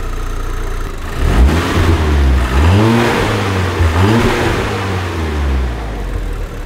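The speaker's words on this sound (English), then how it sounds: "I'm gonna fire up the car and make sure it's not angry at me right away" An Audi TTS MK2 8J fitted with a GFB DV+ diverter valve starts up nearby, then revs several times, the engine pitch sweeping up and falling back between blips before settling to idle.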